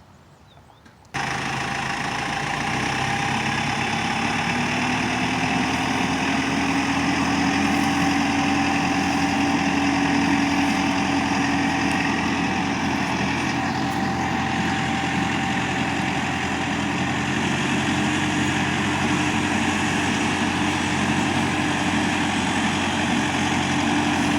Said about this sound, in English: I'm going to go over to the tractor and use the perfecta to incorporate the seed into the soil